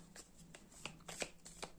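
Tarot cards shuffled for a reading, a quick run of soft papery riffles and slaps in close, quiet bursts, with no talk.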